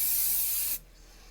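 An aerosol can of raspberry-scented hairspray lets out one steady, close hiss for just under a second, then cuts off abruptly, leaving quiet.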